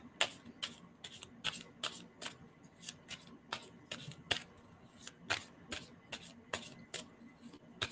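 A deck of cards is shuffled repeatedly, giving a series of quick, crisp riffling bursts in an irregular rhythm, close and fairly quiet with no talk.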